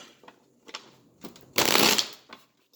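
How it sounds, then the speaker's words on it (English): Playing cards are shuffled nearby: a few light taps and riffles, then one loud, dense burst of rapid flicking lasting about half a second. "I'm just going to give a quick shuffle for the camera purpose"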